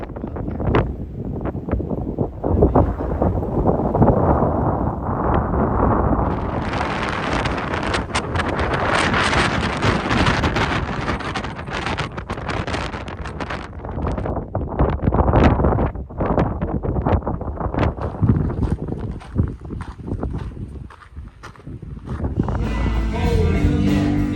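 Strong wind buffeting the microphone in steady, roaring gusts, loud and continuous throughout with no one talking.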